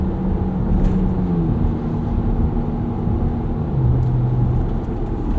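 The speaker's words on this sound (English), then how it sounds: "You can hear here, just getting up to 60 miles an hour, not a ton of road noise with these" Steady cabin road noise from a 2024 Ford Ranger Raptor on 34-inch Yokohama Geolandar G003 tires at about 60 mph, a loud, even low rumble and hum with slight rising engine tones and no talking.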